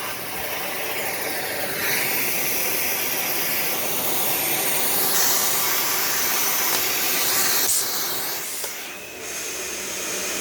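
A Dyson vacuum cleaner runs with strong suction, a loud, steady close-up whine and airy hiss that holds throughout, with a brief dip near the end.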